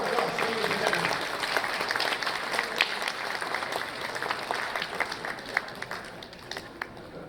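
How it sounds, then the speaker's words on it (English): Applause from the audience at an awards gala night, dense and sustained clapping from a large crowd that holds steady and tapers slightly toward the end. "Let's give him a round of applause"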